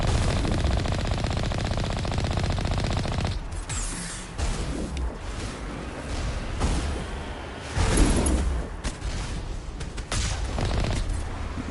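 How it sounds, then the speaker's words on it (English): Gunfire in Mass Effect Legendary Edition on Noveria, with rapid automatic bursts that start dense and loud and then become intermittent shots and impacts over a steady game-world rumble, and no talking. "Who else is shooting at us?"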